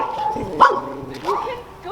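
A rescued reservation dog gives a couple of short barks and yips close by, mixed with brief whimpering, while people talk nearby.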